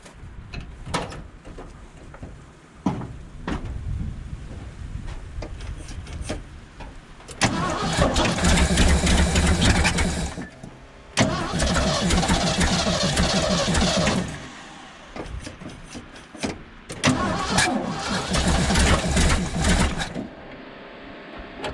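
A 1975 Ford F750 pipeline truck engine cranks repeatedly in loud, sustained bursts with sharp backfire pops, catching and stumbling rather than settling into a smooth idle, close and dominant throughout.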